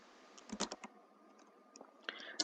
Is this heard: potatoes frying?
no